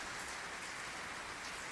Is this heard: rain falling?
yes